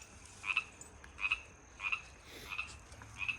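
Frogs croak outdoors in a steady series, five short calls spaced less than a second apart, moderately faint against a quiet background with no talking.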